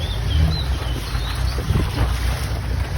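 A motorboat engine drones low and steady at a floating market in Thailand, with wind buffeting the microphone and a few faint bird chirps above.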